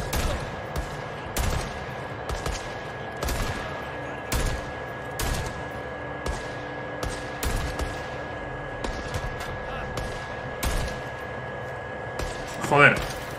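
Gunfire in the Days Gone action game comes as regular single shots spaced about a second apart, loud and sharp, with someone talking quietly over a steady ambient hum.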